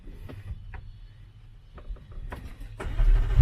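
A 2018 McLaren 720S coupe starts up with a brief starter whir and clicks, then the engine catches and swells to a loud, close rumble at the end.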